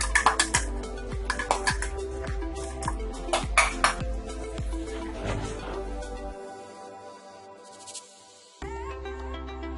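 Spoon stirring eggplant masala with tomato purée in a non-stick pan, a quick series of light scraping clinks that fades into a quieter simmering hiss.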